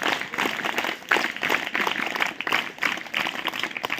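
An audience claps along in a steady, rhythmic pattern, many hands striking together close by in quick repeated bursts with no talk over them.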